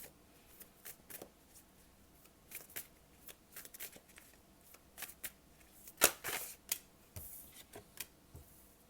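Tarot cards for a Capricorn reading are shuffled and drawn, giving scattered soft flicks and light taps with one louder riffle burst partway through, all quiet and close with no talking.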